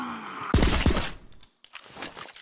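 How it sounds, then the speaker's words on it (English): Gunfire rings out while shooting zombies in a video game: a dense burst of close, loud shots, then a pause and a few fainter follow-up shots. "Did I just quickscope two zombies and get a headshot"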